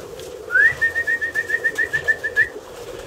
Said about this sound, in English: When that bird comes in